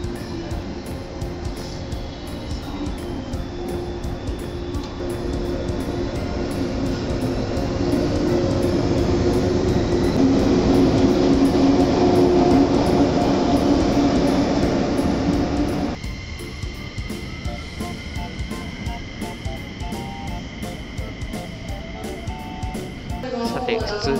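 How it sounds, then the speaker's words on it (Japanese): Two JR trains, a 225-100 series and a 223-2000 series, sit just after decoupling at a platform, giving a steady electric hum and motor drone that swells, then drops to a quieter idle with higher whining tones. "これで無事切り離しが完了ということで、前側225系100番台と後ろ側223系2000番台"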